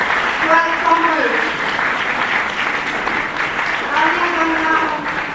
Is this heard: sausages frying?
no